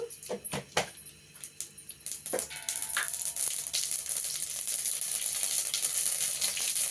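Mustard seeds hit hot oil with a few sharp clicks, then a continuous close sizzle and crackle that grows steadier and louder, with no talking.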